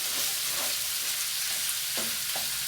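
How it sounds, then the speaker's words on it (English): Turkey and bacon frying in a pan, a dense, constant hiss of hot fat with a few soft scrapes and stirs near the end, close and steady with no talking. "And it will fry up and give this pavo of the turkey a really nice taste"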